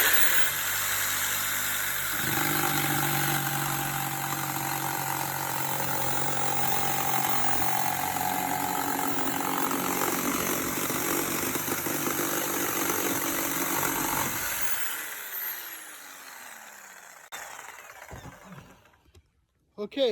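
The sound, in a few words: power saw cutting Schedule 40 PVC pipe one-handed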